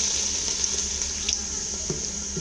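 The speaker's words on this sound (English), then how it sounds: "I'm going to add a little quantity of water" Water pours into a pot of cooked meat for Afang soup, a steady close hiss of running liquid over a faint simmer, with no talk.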